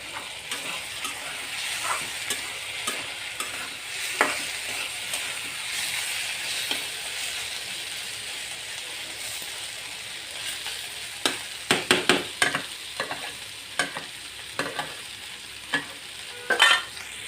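Sliced snake gourd frying in oil with a little turmeric, a steady soft sizzle in a pan, broken later by sharp clicks and scrapes of stirring, close up with no voices.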